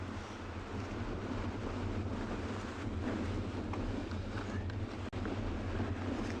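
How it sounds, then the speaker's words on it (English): Strong wind blows across an open South African safari landscape, a continuous low buffeting rumble and rushing noise on the microphone that stays loud and steady throughout, with one brief dropout. "wind ain't getting any softer"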